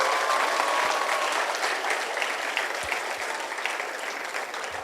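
An audience at a college graduation ceremony claps for teachers and parents, a broad, sustained round of applause with scattered sharper claps that tapers slightly but continues throughout.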